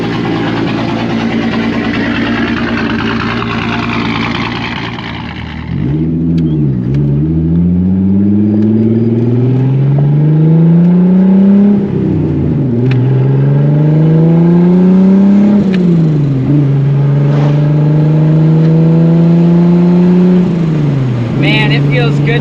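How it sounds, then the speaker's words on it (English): A Volkswagen Corrado engine idles, then revs repeatedly in rising and falling surges, loud and close, with gear changes between pulls. "Oh, I miss driving this car. Sounds so good."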